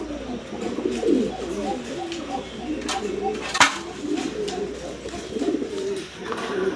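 Satinette pigeons coo in a series of soft, rolling calls at close range, with light background noise and occasional clinks, and someone talking at times.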